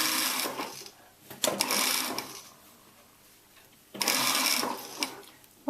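A sewing machine stitches fabric while altering hot pants, running in two bursts of rapid whirring, one around the first two seconds and another near the end, with a quiet pause between them.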